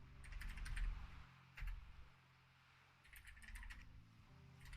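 Computer keyboard typing chat commands during World of Warcraft play: bursts of quick, fairly faint keystrokes, a pause near the middle, then another flurry of clicks over a low game background.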